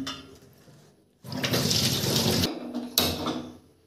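Potatoes are washed by hand in water in a kitchen: after a quiet start comes a close, loud splashing rush of water lasting about a second, a brief pause, then another burst of sloshing.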